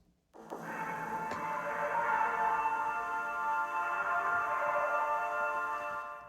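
Sustained, swelling strings play a lush, steady chord for several seconds after a brief silence, with no voices.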